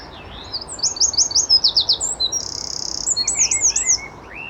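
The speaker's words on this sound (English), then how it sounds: "The birds are loving it." Several small birds chirp and sing in a frosty garden, bursts of rapid high tweets and trilling phrases repeating one after another, fairly close and clear over a quiet outdoor background.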